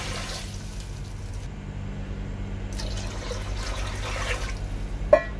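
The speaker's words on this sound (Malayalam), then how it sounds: "നമുക്ക് ഇതിലേക്ക് വെള്ളം ചേർത്ത് കൊടുക്കാം." Water pours steadily into a cooking pot holding rice and carrot for ghee rice, a continuous close, soft gushing stream with a faint clink near the end.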